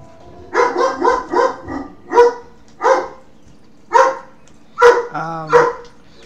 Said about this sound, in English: That's my dog barking again.